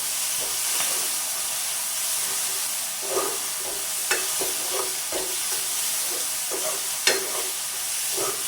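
Squid curry cooking Jaffna style in a pan, with a steady sizzling fry and hiss throughout and scattered clinks and scrapes of stirring, close and fairly loud, no talk.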